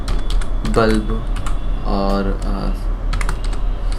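Fingers type on a computer keyboard while cell entries go into an Excel spreadsheet, a close run of quick key clicks with a voice talking over it.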